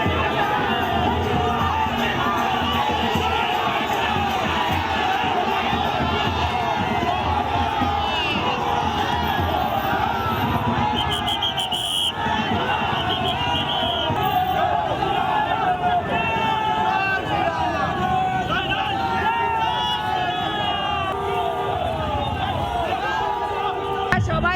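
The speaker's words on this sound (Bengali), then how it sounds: "তৃণমূল আর বিজেপির মধ্যে স্লোগান আর পাল্টা স্লোগান" A dense crowd of Trinamool and BJP supporters shouts slogans and counter-slogans at a nomination-day rally for Rupa Ganguly in Sonarpur, West Bengal. Loud, continuous massed shouting and chanting with overlapping voices fills the scene throughout.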